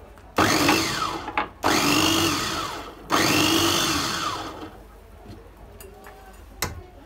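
An electric blender whirs through pancake batter with butter in three loud bursts, each motor run rising and settling in pitch. Brief pauses separate the runs, and a few light ticks follow after the motor stops.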